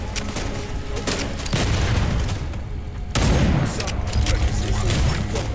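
Bursts of video game gunfire in a military shooter firefight, booming volleys and rapid shots coming in several loud clusters close up, with a dense, continuous battle racket between them.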